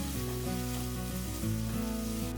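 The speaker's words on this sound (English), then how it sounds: "Saute everything until the onions turn translucent" Onions, ginger, garlic and tomatoes sizzle steadily in a hot pan, a continuous close frying hiss with some background tonal hum, no talking.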